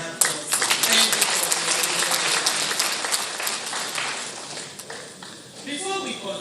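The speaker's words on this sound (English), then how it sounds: "His Excellency sure deserves another round of applause" Lecture audience applauding His Excellency, a dense wash of many hands clapping steadily and fairly loud, easing toward the end as a voice begins to speak.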